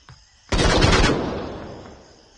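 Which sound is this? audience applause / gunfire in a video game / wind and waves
gunfire in a video game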